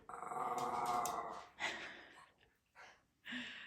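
A dog growling in a home kitchen, a long rumbling snarl followed by several shorter, breathy growls and snorts, close and fairly loud with no talk.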